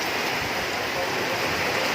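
Rainwater rushing through an overflowing street drain in a flooded market street during heavy rain, a steady broadband wash of flowing water, close and continuous with no breaks.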